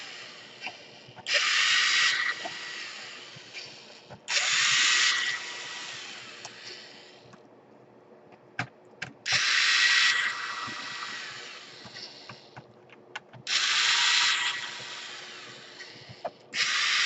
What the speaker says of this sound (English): What you want to do next is you want to unscrew all the screws right here.